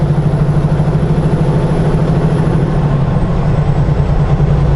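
A large truck engine idles close by, a loud, steady low rumble with an even, pulsing throb and no talk over it.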